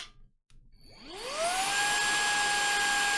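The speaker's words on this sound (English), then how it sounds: "This is a microphone test with the voice focus mode enabled with the vacuum cleaner behind us." Vacuum cleaner starting up behind a webcam microphone, rising from quiet into a steady loud whine with a clear tonal hum that holds to the end.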